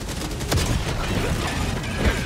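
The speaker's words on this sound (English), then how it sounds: "It's just a cluster bomb." Cluster rocket explosions in Helldivers 2 merge into a dense rumbling volley of close, loud blasts, with a sharper crack partway through and a steady roar of detonations throughout.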